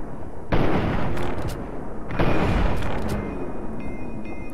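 Gunfire in Fallout 3 bursts out as two heavy, booming shots close together, each followed by a long rumbling decay against a steady game background.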